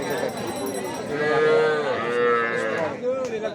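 Cattle at a busy livestock market, where heifers are being sold: one long, loud, nearby moo rises and falls over a low murmur of crowd noise.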